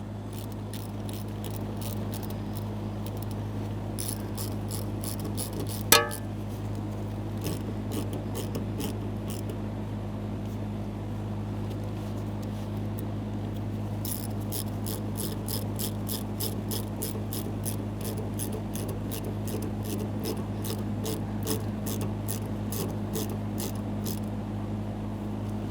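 A ratchet wrench clicks in quick repeated bursts while tightening fuel line clamps on a 1992-1996 Toyota Camry, over a steady low hum, with one sharp metallic knock partway through.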